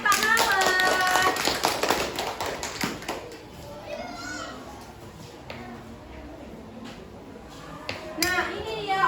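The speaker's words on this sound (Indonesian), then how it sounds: "Beri tepuk tangan untuk Kak Mawar." Children in a classroom clap for a student called up front, a burst of applause and tapping that fades into chatter and kids' voices, rising briefly again near the end.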